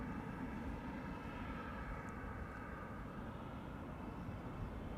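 An airplane departs Amsterdam Schiphol Airport, a steady, distant low engine roar that holds evenly throughout without voices.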